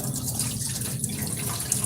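Tap water runs steadily into a bowl while rice is rinsed in a kitchen sink, a soft even splashing with small drips and no speech.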